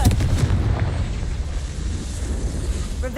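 A Confringo blast spell from the game Hogwarts Legacy erupts in a heavy booming explosion, loud and close, rumbling on with a dense low roar that slowly fades.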